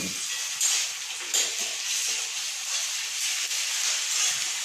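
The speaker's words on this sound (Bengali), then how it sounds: "এবার দিদি রান্না করছে চিকেন" Chicken frying in a pan at home for a Bengali New Year meal, giving a steady, bright hiss and sizzle with occasional small pops and stirring knocks, continuous and close, with no talk.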